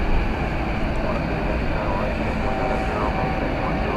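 Qantas Boeing 787-9 Dreamliner at DFW Airport, a steady broadband engine roar heard at a distance, constant and unbroken throughout with no voices.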